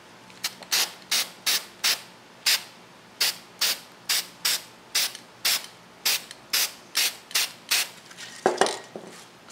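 An aerosol can of solvent sprays onto a rotten pumpkin in a steady series of short hissing bursts, about sixteen evenly paced puffs, loud and close, with a faint rattle near the end.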